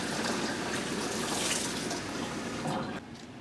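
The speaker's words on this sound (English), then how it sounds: "you're going to put the water right here to about 2 inches to the top of the springform pan" Water is poured from a tap in a steady, close rushing stream into a pan around a springform pan for a gingerbread cheesecake water bath, then cuts off abruptly near the end.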